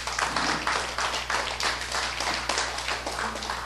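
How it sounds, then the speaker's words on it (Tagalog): Lively clapping from a church service congregation fills the room, a dense, steady burst of many hands applauding together close by, with no speech over it. "yan ang palakpak ng excited"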